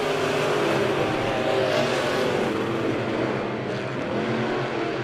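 Southern Midwest Modified race cars roar around the Monett Motor Speedway dirt oval during a heat race, a loud continuous engine drone with shifting revs as the pack sweeps through the turns.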